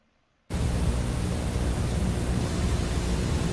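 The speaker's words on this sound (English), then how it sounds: "I can hear the white noise." White noise played over a phone call: after half a second of near silence, a steady broadband hiss starts abruptly and continues evenly to the end, with no talking.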